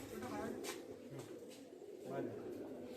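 Pigeons at a big low-flyer loft make soft cooing and flapping sounds, faint and somewhat distant, with a steady outdoor background.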